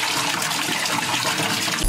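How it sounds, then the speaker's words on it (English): Water gushes and splashes steadily into a fish tank as it fills, a close, continuous rushing pour with no talk. "so we're filling up this tank here"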